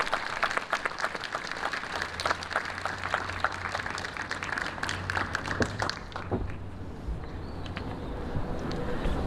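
A crowd gives a round of applause for finalists at a school awards ceremony, a steady, fairly loud clapping that thins and fades in the last few seconds.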